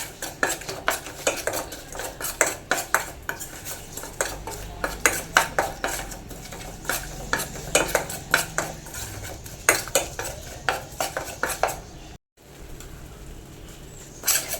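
Gram flour being roasted in oil in a pan, a busy rapid scraping and clattering of a metal spoon against the pan, continuous close stirring with a faint sizzle underneath, briefly cut off near the end, no voices.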